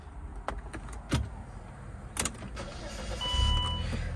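A 2010 Saab 9-3 wagon is started with its center console ignition: a few key clicks and rustles are followed by the engine catching into a steady idle hum, close up and moderately loud.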